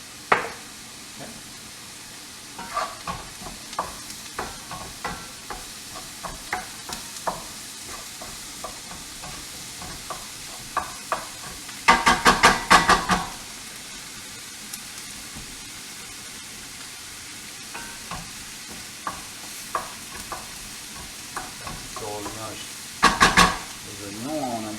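Onions and mushrooms sauté in a pan for a tarte provençale while a spoon stirs gently, giving soft steady sizzling broken by scraping and clattering strokes, with two louder bursts of stirring; someone talks now and then.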